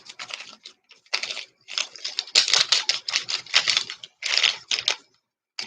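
A deck of reading cards being shuffled, quick papery bursts of riffling and sliding in irregular clusters with short pauses, close and fairly quiet, with no talking.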